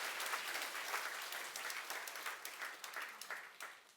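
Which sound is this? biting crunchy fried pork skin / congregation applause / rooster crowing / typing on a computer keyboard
congregation applause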